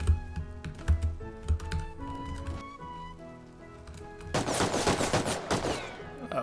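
In the survival video game Rust, an automated turret fires a rapid burst of gunshots near the end, following quieter keyboard clicks and faint background game sounds.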